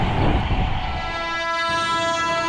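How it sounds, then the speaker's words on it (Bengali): A Burdwan-to-Howrah chord line super local electric train runs past Balarambati station. Its loud, steady roar and rumble fill the scene, with sustained tonal whining lines over it, and there is no talking. "বর্ধমান থেকে হাওড়াগামী কর্ড লাইন সুপার লোকাল"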